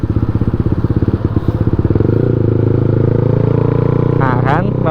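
A Honda CB150R motorcycle rides on the road, its engine pulsing rapidly and then rising into a steady, loud drone as it accelerates. Wind noise runs underneath, and a voice speaks briefly near the end.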